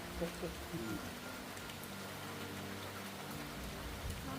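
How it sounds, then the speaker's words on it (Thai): Steady rain falls outdoors in a Thai home setting, a continuous soft hiss of drops on surfaces at moderate level, with faint low voices murmuring underneath throughout. "ฝนตก"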